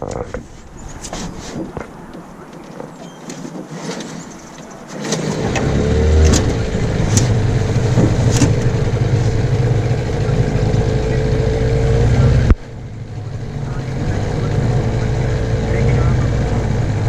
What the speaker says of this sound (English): I feel so blessed that I have an outboard motor